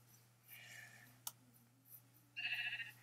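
In the video game Minecraft, a sheep bleats twice, separated by a sharp click, over a low steady hum; the second bleat is louder and wavering.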